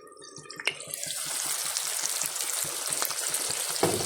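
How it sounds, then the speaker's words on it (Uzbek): Meat cutlets fry in a pan with a dense, steady sizzle that swells after a quiet start and holds throughout, with a couple of sharp clicks. "Mana kotletlarim zo'r bo'lib pishdi. Hozir buni qovurib olaman."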